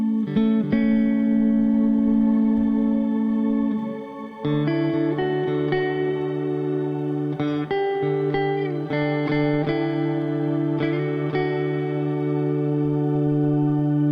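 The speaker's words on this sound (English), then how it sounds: "You get almost like an organ effect on it. Massive delay on that." Electric guitar played through a Quad Cortex processor with an organ-like octave effect and massive delay, sustained chords ringing out with long repeating echoes and layered harmonics, loud and close, with no talking.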